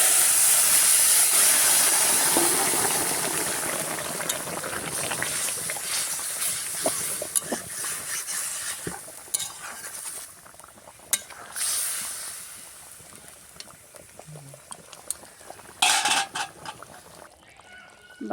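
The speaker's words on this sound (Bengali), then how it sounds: "তরকারিটা ফোড়ন দিয়ে দিচ্ছি মাংসটা।" Meat curry is tempered with spices in a hot pan, opening with a loud steamy hiss that fades into crackling sizzles and scattered clinks of stirring, close by.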